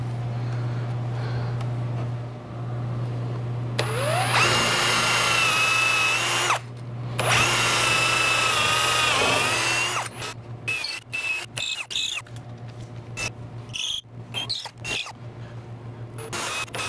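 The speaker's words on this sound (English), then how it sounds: "This board actually moved a little bit when I was drilling that second hole" A power drill whines loudly up close as it bores two holes in a board, each bore lasting a few seconds and then stopping, with a steady hum underneath and clattering handling noises once the drilling ends.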